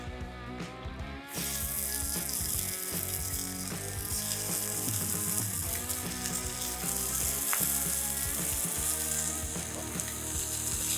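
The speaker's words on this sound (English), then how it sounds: "Let's get that bacon on." Bacon frying in a Lodge Blacklock cast iron skillet gives a loud, continuous crackling sizzle that starts abruptly and keeps going, close up, with a steady tonal hum running underneath.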